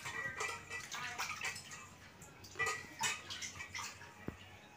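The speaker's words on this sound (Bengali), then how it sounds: "এবার বাকি মাছগুলো আমি ধুয়ে নিচ্ছি।" Small fish being rinsed in water by hand, with soft splashes and sloshing in short bursts, a few light knocks against a vessel, close and fairly quiet, no talking.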